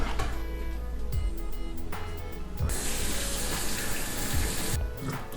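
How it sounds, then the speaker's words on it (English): Tap water runs steadily into a sink while boiled meats for pho are rinsed off, a continuous splashing stream with a few knocks and shifts in the flow. "So now we're going to discard the water and rinse off the meats."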